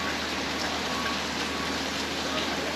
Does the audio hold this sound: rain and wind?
yes